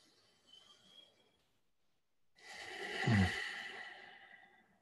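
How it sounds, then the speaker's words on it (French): One long, deep breath drawn in and slowly released during a meditation session, fairly close and soft. Faint breathing comes before it, then a short pause. "On prend une grande respiration"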